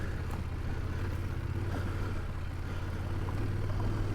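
A motorcycle crosses a river on a dirt trail, its engine a continuous low rumble mixed with churning water noise, fairly loud and steady throughout, with no one talking.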